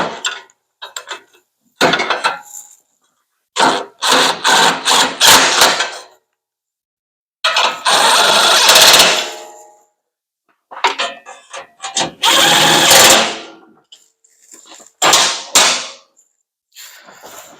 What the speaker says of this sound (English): 10 millimeter on a nice long extension, and buzz them in.